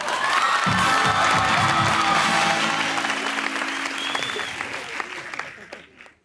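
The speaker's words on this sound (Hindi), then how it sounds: "अपने लिए तालियां बजाओ।" A talk-show studio audience breaks into loud, dense applause with some cheering and whoops, which holds for a few seconds and then fades away.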